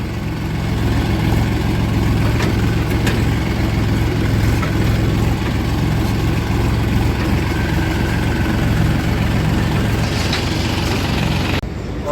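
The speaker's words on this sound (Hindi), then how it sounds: "आप देखना बहुत ही शानदार तरीके से ट्रैक्टर इन्होंने बनवाया हुआ है" A military-green Escort tractor engine runs steadily at a loud, close idle, a continuous low rumble with a faint rhythmic chug, cutting out abruptly at the very end.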